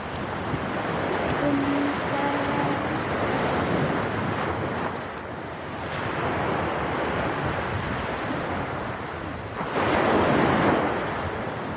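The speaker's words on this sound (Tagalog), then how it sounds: "Hangin at dagat." Wind buffets continuously over the sound of sea waves rolling and crashing nearby, with a louder surge near the end and no talking.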